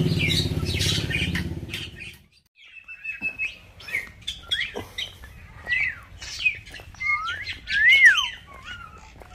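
A starling kept in a large cage gives a run of chirps, whistled notes and short squawky calls, moderately close, after a burst of broadband noise at the start.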